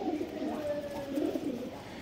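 High-flyer pigeons at a home loft in Liluah, Howrah, give a couple of low, rolling coos close by, fairly quiet against a faint steady background, no speech.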